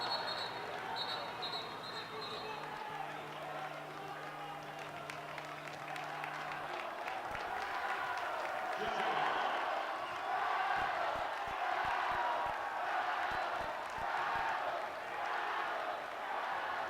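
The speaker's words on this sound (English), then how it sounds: "As always, an enthusiastic crowd here for these state tournament games" An enthusiastic crowd at a state tournament high school basketball game, Gloucester versus Reading, with steady applause and cheering filling the gym alongside scattered ball bounces and sneaker noise.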